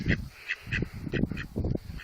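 A run of loud, nasal duck quacks in quick succession in snowy weather in Bursa, Turkey, about half a dozen calls in an uneven rhythm, close by.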